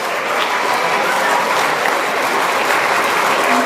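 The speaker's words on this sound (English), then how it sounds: "And another round of applause." A large audience applauding at a 40th anniversary celebration, steady and dense clapping filling the room for a few seconds without a break.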